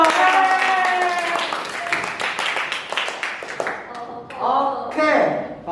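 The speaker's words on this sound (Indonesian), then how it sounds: "Kasih tepuk tangan dulu dong." Applause for student council guests on a school podcast: a burst of clapping mixed with cheering and chatter, loud and near, dipping briefly before swelling again.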